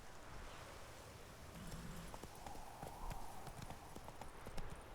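Roach the horse trotting in The Witcher III, a quiet, steady clip-clop of hooves with rustling and faint ambience throughout, the hoofbeats growing slightly sharper toward the end.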